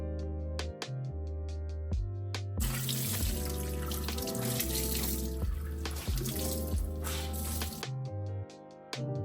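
Tap water runs steadily into a sink while a thrifted pillow cover is washed by hand, a close, continuous splashing rush framed by tonal music before and after, with no talk.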